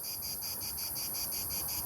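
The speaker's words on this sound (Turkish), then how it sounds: "Öten Ağustos böceği arkadaşlar." A cicada sings beside a large old tree on a summer day, a steady, shrill buzzing pulsed in a fast regular rhythm, fairly near and continuous with no talking.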